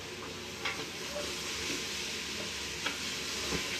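Cumin seeds hit hot oil in a pan and sizzle with a steady, close crackling hiss, with a few soft stirring clinks over the frying sound.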